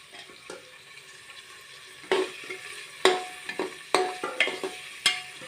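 Green chillies roast in a pan, with quiet sizzling broken by several sharp stirring knocks and scrapes against the metal, close and intermittent.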